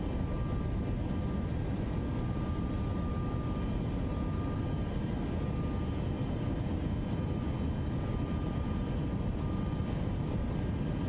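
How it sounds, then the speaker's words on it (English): Boeing 737 MAX jet engines spooling at takeoff power in Microsoft Flight Simulator 2024, a steady loud broadband roar with a faint high whine that holds level throughout, no voices. "Bring up the throttles."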